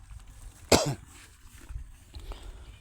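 A woman gives a single sharp, close cough, then a few quiet breaths and faint rustling.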